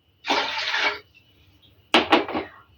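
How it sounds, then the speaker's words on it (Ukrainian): 150 ml of 9% vinegar is poured into a pot of water for a tomato pickling brine, as two short splashing pours separated by a brief pause, close up with no talking. "Далі вливаю 150 мл оцту."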